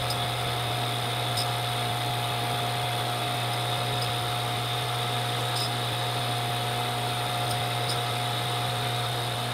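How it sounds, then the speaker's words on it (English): A diamond wheel on a bench grinder polishes carbide in a holding setup, giving a steady, continuous high-pitched whine with a constant motor hum underneath and faint periodic ticks, close and alone without talk. "First step, diamond wheel with holding setup and the grinder."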